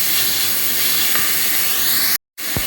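Sliced onions frying in a pan for a vegetable kurma, a steady close hiss and sizzle that drops out briefly near the end before resuming.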